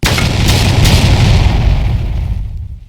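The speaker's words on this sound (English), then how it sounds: "Having moved into place, Melas's artillery opens up." Artillery barrage from a Pub Battles tabletop wargame demo of the Marengo battle, Austrian guns under Melas firing: a dense, continuous rumble of booms and blasts, loud and sustained, fading out toward the end.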